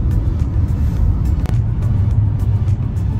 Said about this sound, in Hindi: तो आज हम इसे थोड़ा खींच के चलाएंगे गाड़ी को